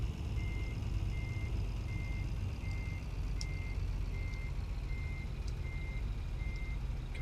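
A truck reversing in Euro Truck Simulator 2 sounds a steady series of evenly spaced beeps, about ten in all, over a constant low engine rumble.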